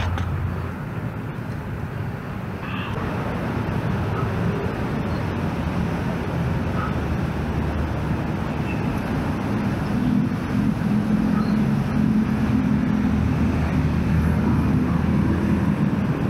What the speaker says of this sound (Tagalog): So guys, start na natin paliparin yung ating mini quadcopter na KY908.